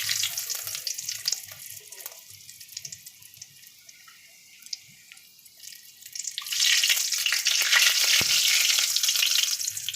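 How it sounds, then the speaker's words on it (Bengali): Panch phoron and two dried red chillies drop into smoking-hot oil for a Bengali fish-head cabbage dish. A quiet, crackly stretch swells into a loud, sustained sizzle partway through, with no talking. "এবার আমরা হালকা পাঁচ ফোড়ন দেব, দুটো শুকনো লঙ্কা দিয়ে দেব,"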